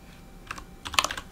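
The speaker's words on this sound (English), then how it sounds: "Instead of just typing in A, I'll type in 1" Quick bursts of keystrokes on a computer keyboard while entering values in a MaxScript UI script, a few scattered taps and then a denser cluster, close and fairly quiet with no talk.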